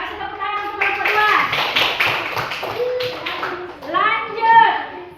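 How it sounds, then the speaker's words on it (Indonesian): Children in a classroom clap for a group after a presentation, a loose patter of hands mixed with excited young voices and a teacher speaking close by. "Kasih tepuk tangan untuk kelompok 2."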